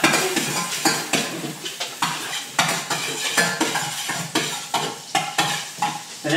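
Butter hitting a hot pan at the start of a cream of mushroom soup, sizzling steadily while a utensil stirs and scrapes against the pan in a quick repeated rhythm, close up with no talk.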